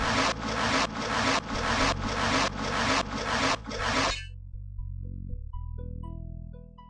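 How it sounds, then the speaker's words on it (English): Industrial saw rasping through a harpoon shaft in the EcoQuest video game, a loud rhythmic back-and-forth scraping in about seven strokes, then giving way to soft game music tones. "Adam uses the industrial saw to cut through the harpoon shaft."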